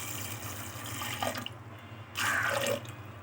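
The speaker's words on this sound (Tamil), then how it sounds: "இப்போ தண்ணி ஆட் பண்ணிக்கலாம்." Tap water runs into a pressure cooker holding soaked chickpeas for chana kuzhambu: a low steady trickle, then a louder close pour for about half a second near the end.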